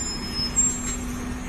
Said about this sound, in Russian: О, автобусы ходят.